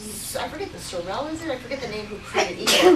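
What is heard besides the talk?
sneeze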